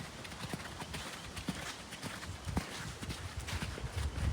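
Hooves of a young mare clip-clop steadily at a walk-to-trot pace during a training ride, close and moderately loud, with faint outdoor background and no talk.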